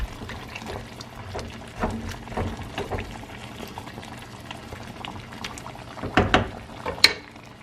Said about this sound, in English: I am gonna add about 1/4 cup of water and give it a good mix